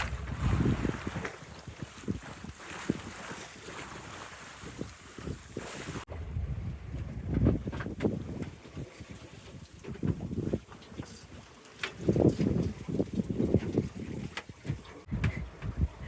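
A sailboat under way in the wind on the bay of Almeria, with steady rushing wind buffeting the microphone and low water wash against the hull, continuous and close with gusty swells in loudness.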